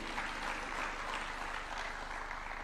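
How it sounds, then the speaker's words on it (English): An audience at a Nairobi innovation park unveiling claps in a continuous, moderately faint wash of applause with no distinct individual claps standing out. "Another clap for him, even if just for the Swahili."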